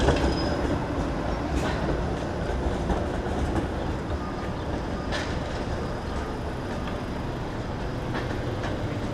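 A Toronto streetcar runs along Broadview at Dundas on a sunny street, a steady rumbling roll with faint wheel clicks and light squeals, heard from close by on the sidewalk amid city noise.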